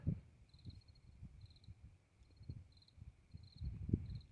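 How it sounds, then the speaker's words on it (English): Crickets chirp outdoors at night in short repeating bursts, a steady high trill pulsing about once a second over soft low rumbling background noise. "Love the sound of the crickets in the background"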